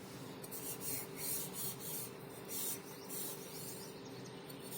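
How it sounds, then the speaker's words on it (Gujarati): An oiled hand rubs over a sev-making press, greasing the machine for wheat-flour sev in a home kitchen. The rubbing is soft, close and rasping, with a few steady strokes and no talk. "હવે આ મશીનને આપણે થોડુંક તેલથી ગ્રીસ કરી લઈશું"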